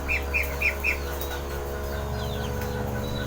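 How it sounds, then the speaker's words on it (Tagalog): Birds in a breeding loft cage give four quick, high chirps in a row near the start, then fall quiet over a steady low hum and faint background noise. "Ayan yung mga ibon natin"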